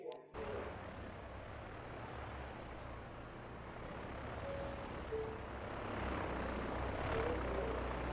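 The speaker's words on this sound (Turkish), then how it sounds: "Diğer uçağımız havalandı." A rising jet roar from an airplane taking off in the game Transport Fever 2, a broad rumbling drone that swells gradually and stays fairly faint throughout.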